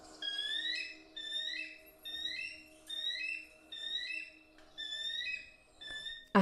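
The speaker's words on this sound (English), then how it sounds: "This is Call of a Bald Eagle." Recorded bald eagle calls: a run of about eight high, chirping, piping bursts in a steady rhythm, clear and close, over a constant low electrical hum.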